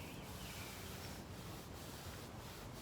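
Hands rubbing the knees during a massage for knee pain relief, a steady soft friction swish close to the microphone, quiet and continuous with no talk.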